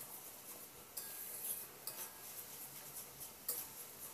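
Spice masala being stirred and fried in a pan for a potato and pointed gourd curry: soft scraping and sizzling hiss throughout, with a few sharp utensil clinks against the pan, close and fairly quiet, no talking.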